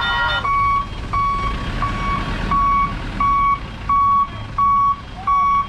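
Loud, regular backup beeps from a reversing truck at an unloading site, about eight evenly spaced tones sounding over a steady engine rumble, with no talking.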